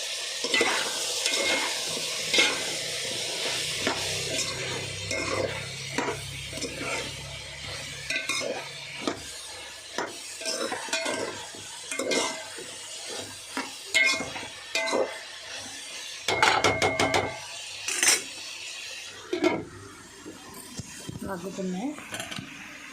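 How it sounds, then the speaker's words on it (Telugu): Vamkaya, potato and chana dal curry stirred as it fries in a pan, steady sizzling under repeated scrapes and clinks of a spoon against the metal, close by, with a voice speaking briefly at times. "ఇప్పుడు ఒకసారి తిప్పుదాం మళ్ళీ"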